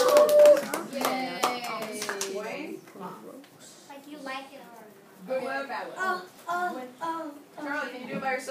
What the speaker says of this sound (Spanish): Clase, un aplauso para Charlie!